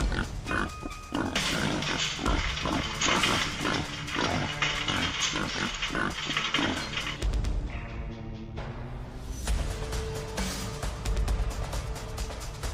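Wild boars caught in a trap grunt and snort, a crowded run of loud close grunts and squeals with rustling and thumps, easing briefly before picking up again.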